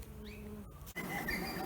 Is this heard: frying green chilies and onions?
no